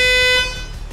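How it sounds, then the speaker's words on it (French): A Porsche 911 GT3 being rebuilt after a crash sounds one loud, close horn blast, a bright steady tone that holds for almost a second and then falls away. "Le klaxon fonctionne!"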